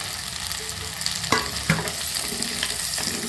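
Onions and tomatoes sauté in hot oil for a dry fish curry, a steady sizzle and crackle with a couple of sharp spoon-stirring knocks, close and without talk.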